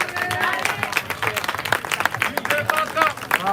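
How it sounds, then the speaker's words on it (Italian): An audience applauds two young girl boxers after their bout at an amateur regional boxing event in Veneto, steady clapping mixed with crowd voices and background music throughout. "ascolterei il vostro applauso per queste due ragazze"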